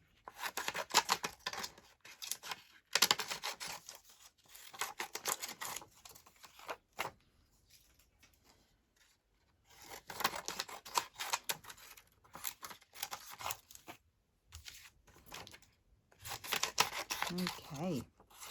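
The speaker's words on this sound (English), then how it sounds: "let's just cut these out" Scissors snip out paper pieces for a craft envelope made from altered packaging, coming in close bursts of crisp cutting and rustling with pauses between.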